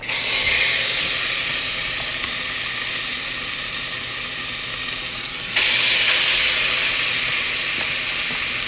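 Steady, loud sizzling and frying hiss from chicken in a hot pot of oil for curry chicken, with a sharper burst of sizzle midway as more food hits the oil.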